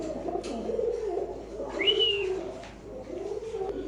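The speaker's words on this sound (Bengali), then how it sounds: "কবুতর ভাই, এগুলো কবুতর ভাই" Pigeons coo in soft, low rolling phrases, close by, with one brief higher whistle-like note partway through; no talk.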